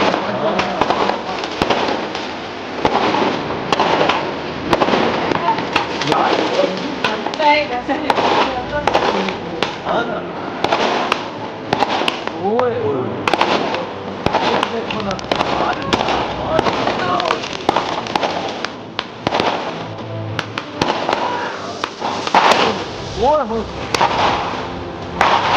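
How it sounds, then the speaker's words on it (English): Dense, continuous crackling and popping of Diwali fireworks and firecrackers bursting all over a city in India, sharp bangs near and far, with people talking and exclaiming throughout. "It's just fireworks, literally, all over the city, inside the buildings, outside the buildings."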